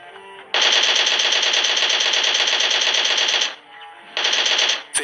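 Video-game machine-gun fire in a high-ping online shooter: a long, loud, continuous automatic burst lasting about three seconds, a short gap, then a second shorter burst, close and dry with no voices.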